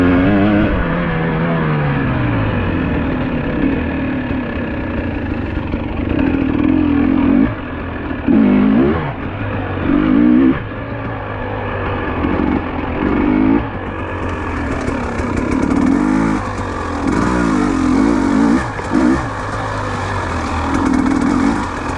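A GasGas EC300 dirt bike engine fitted with an aftermarket ECU and throttle body block runs loud and close throughout, with repeated quick throttle blips and a rough, snarling rise and fall in revs. No one speaks.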